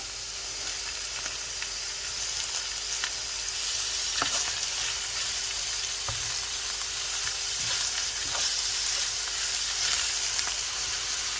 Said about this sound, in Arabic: من بعد ما تشحرات ليا البصله دابا غادي نزيد الكفته